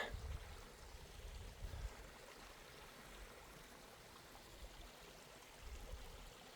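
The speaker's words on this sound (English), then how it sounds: "Nice little stream." A small stream trickles quietly and continuously in the Peak District, a soft watery hiss with occasional low rumbles from wind.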